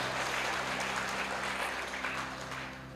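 Dense, steady applause from a crowd fills the whole stretch, a continuous wash of hand claps under a low hum, easing off slightly toward the end.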